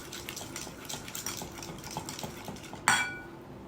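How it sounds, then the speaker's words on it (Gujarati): Utensil scraping and clinking in a bowl as a cup of yogurt is beaten smooth for cucumber raita, a steady run of small strokes ending in one sharper knock. "એક બાઉલમાં આપણે દહીં લેવાનું છે એક કપ દહીં લઈશું એને સરસ રીતે બીટ કરી લેવાનું છે મિક્સ કરી લેવાનું છે"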